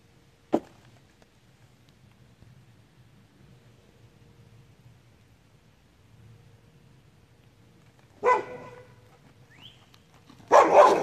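A dog gives a few short, sharp barks spaced several seconds apart over quiet background hiss, with the last bursts louder and closer together.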